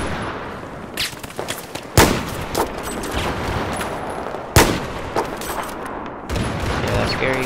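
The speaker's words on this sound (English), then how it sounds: "they're putting down suppression fire" Heavy suppressive gunfire in the Battlefield 4 game on Xbox One: dense continuous bursts of automatic weapons fire with several louder sharp reports standing out, loud and close, with faint talk underneath.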